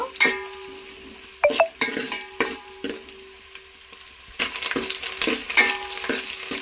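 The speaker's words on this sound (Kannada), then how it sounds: "ಈರುಳ್ಳಿನ ಸ್ವಲ್ಪ ಫ್ರೈ ಮಾಡ್ಕೋಬೇಕು" Chopped onions fry in oil in a pan for a fish sambar tempering, a close steady sizzle punctuated by repeated sharp spatula clinks and scrapes against the metal, with nobody speaking.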